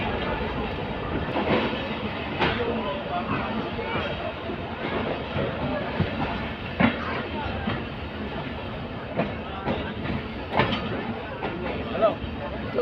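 Bahauddin Zakariya Express passenger train running on the rails, a steady rumbling roar with periodic clacks of wheels over rail joints, heard from inside the carriage with faint background chatter.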